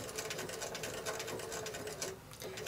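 A sewing machine stitching a quilt block, running fast in a steady whirring, rattling rhythm, close and continuous, with a brief slowdown near the end.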